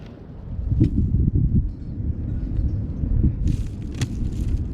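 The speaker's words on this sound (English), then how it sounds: "Dang wind." Wind gusts outdoors in a continuous low rumble that buffets the microphone and swells and eases for the whole stretch, with no speech.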